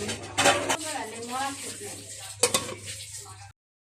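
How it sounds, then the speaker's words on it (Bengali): A lid is set over a pan of silver carp curry with cauliflower, giving two metallic clanks amid faint sizzling, with a voice speaking softly in between. "এখন এটাকে আমি ঢেকে ঢেকে দেবো"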